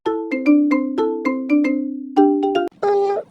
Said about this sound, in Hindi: ये फिर से फोन कर रहा।